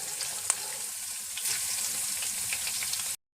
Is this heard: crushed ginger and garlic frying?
yes